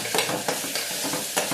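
Powdered spices, coriander and chili, stirred into vegetable pulao in a pan, with repeated rhythmic scraping strokes over a constant soft sizzle, close up and with no talking.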